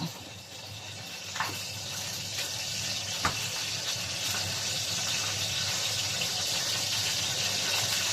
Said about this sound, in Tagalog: lalagay na natin yung ating pangalawang gata